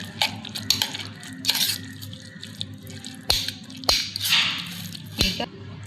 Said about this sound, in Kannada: ಈಗ ಇನ್ನೊಂದು ಸಲ ಮಿಕ್ಸ್ ಮಾಡ್ಕೊಬೇಕ್ರಿ